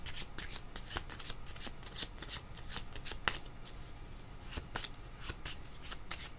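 A deck of tarot cards shuffled for a reading, giving repeated crisp riffling bursts and soft flicks at an uneven, steady pace, close and fairly quiet, with no talking.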